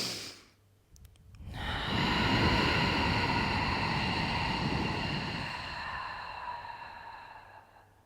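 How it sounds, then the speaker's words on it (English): A physiological sigh: a quick double inhale through the nose followed by a long, gentle breathy exhale that slowly fades, close and alone without talk. "2 sharp inhales and 1 very gentle, long sigh out through the mouth as you exhale."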